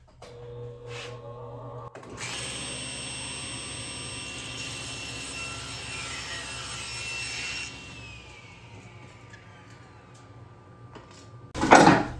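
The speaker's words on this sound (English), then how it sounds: "Next thing I'm going to do is cut them to length on the crosscut sled" Table saw cutting boards to length on a crosscut sled for a blanket chest: a steady loud whine runs for several seconds, then spins down, followed by a brief clatter of wood at the end.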